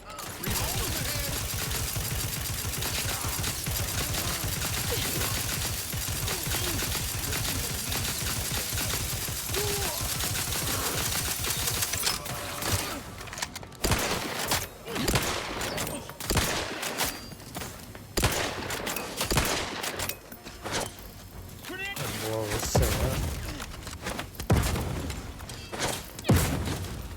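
Heavy gunfire from a boss fight against Seer Wiley in The Outer Worlds 2: about twelve seconds of dense, continuous shooting, then scattered loud bursts and thuds with gaps between them.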